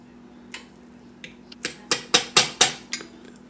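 A potato masher pounds boiled potatoes with butter in a pot: a handful of sharp, close knocks and clacks, sparse at first, then a quicker run of louder strikes before tapering off.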